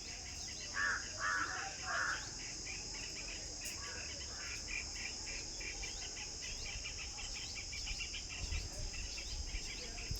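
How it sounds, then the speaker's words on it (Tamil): A cicada sits on a tree branch outdoors, giving a steady, continuous high-pitched buzzing drone that holds through the whole stretch, with a few brief louder chirps early on and faint bird calls in the background. "சில்லுவண்டினுடைய ஒலிகளை பார்த்திங்கன்னா குறைஞ்சிருச்சு"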